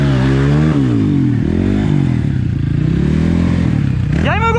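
A motorcycle engine revs loudly nearby, its pitch rising and falling through several accelerations, then climbing sharply in a final burst near the end during an outdoor ride in Presidente Lucena, Brazil.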